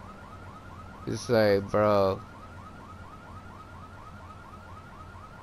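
Repeating electronic car alarm in GTA 3 wails steadily with a cycling warble through the whole clip, with a voice talking briefly over it midway.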